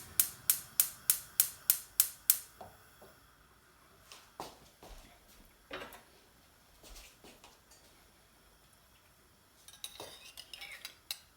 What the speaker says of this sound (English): let's get the pan on